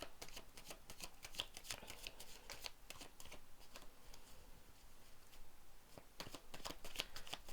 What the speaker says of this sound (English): let's go ahead and pull a card for you and your partner